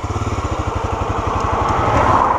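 A Tornado 250 motorcycle engine revving up close by, its pulsing low exhaust beat quickening into a steadier, rising drone as it accelerates.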